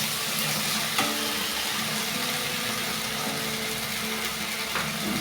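Chicken pieces with ginger sautéing in a pan, giving a steady, dense sizzle and hiss that holds evenly throughout at close range, with faint clinks and no talking.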